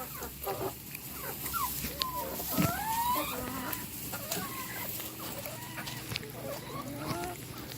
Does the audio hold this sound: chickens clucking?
yes